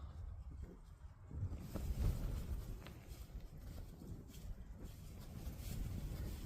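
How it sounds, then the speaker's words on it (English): Wind gusting outside a parked van at night, a steady low rumbling roar with blustery swells and occasional buffeting against the body, fairly loud and continuous with no voices. "I know it's windy"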